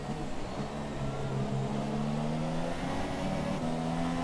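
F3 race car engines rev hard in a racing game at a Spain circuit, a steady loud buzzing drone with rising pitch and brief gear-shift dips, heard alone without talk.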